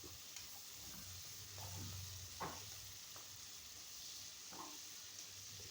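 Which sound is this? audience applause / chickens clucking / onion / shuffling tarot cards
onion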